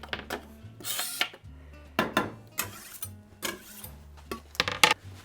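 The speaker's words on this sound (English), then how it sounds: "So I'm going to scrape that right into the chili." Ingredients scraped from a board into a pot of vegetarian chili, a series of clattering scrapes and knocks of utensil on cookware, close and fairly quiet, in irregular bursts.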